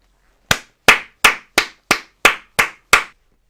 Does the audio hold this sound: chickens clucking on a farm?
no